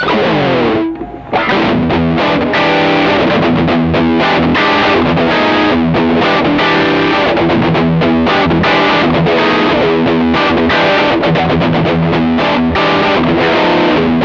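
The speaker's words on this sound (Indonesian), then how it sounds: "sekarang uh, dicoba pakai distorsi" Electric guitar on a Squier Bullet with Kin's pickups, played through a YMS distortion pedal: dense, heavily saturated chords and riffs ringing continuously, loud and up close, after a brief opening pause.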